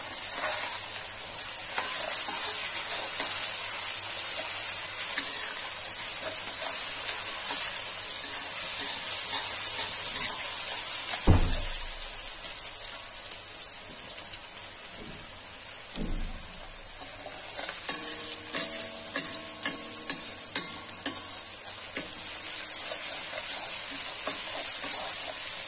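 Onions sizzle steadily in a hot pan with a little salt, a bright continuous frying hiss broken by a few stirring scrapes and clinks of the spoon, close and loud, with no talk.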